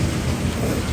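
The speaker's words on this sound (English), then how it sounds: "I said it's raining outside and it looks so nice." Steady rain falling outside, heard as a dense, even wash of noise with no breaks over a short moment, fairly loud and close.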